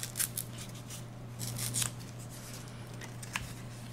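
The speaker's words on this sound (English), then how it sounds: "So I'm going to start by just snipping one edge of the cardstock." Scissors snip into a sheet of Sahara Sand cardstock with a few quiet, brief cuts and rustles, heard faintly and close with no talking, set against a steady low hum.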